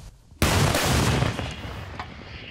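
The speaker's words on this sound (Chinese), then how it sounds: "连续发射好几枚炮弹，" An M777 howitzer fires shells toward Russian forces on the Kharkiv front: one sharp, loud blast followed by a long rolling echo that fades out, then a fainter second thud.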